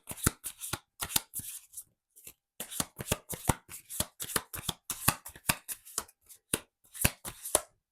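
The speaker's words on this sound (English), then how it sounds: "So let's take a self-care card." A deck of self-care cards being shuffled by hand, with repeated quick riffling bursts and short pauses between them, close and clear, with no talking.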